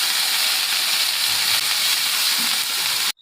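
A ground paste of onion, ginger, green chilli and garlic sizzles loudly in hot oil with cumin seeds, a dense, steady frying hiss close up that lasts about three seconds and then cuts off abruptly.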